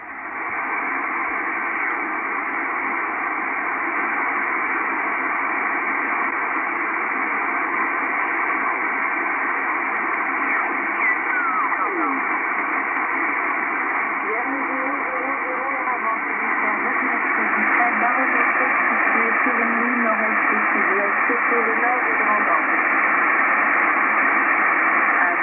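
Kenwood R-5000 receiver tuned to WWV around the mediumwave band on an MLA 30 loop antenna, giving steady loud band-limited static hiss with faint wavering tones buried in the noise.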